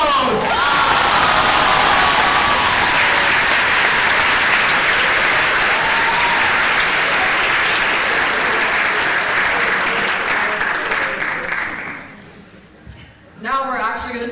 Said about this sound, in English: Another round of applause for all beautiful models!